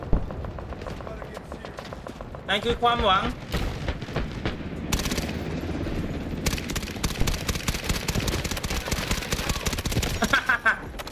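Rapid automatic gunfire in the video game Delta Force, from an AS VAL rifle and other weapons, with bursts and booms over several seconds mixed with players talking.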